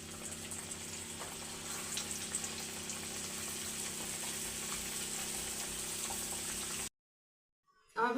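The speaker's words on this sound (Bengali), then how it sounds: "এক এক করে সব ভেজে নেবো।" Stuffed bean pitha frying in hot oil, a steady close bubbling sizzle that runs unbroken for about seven seconds before cutting out abruptly.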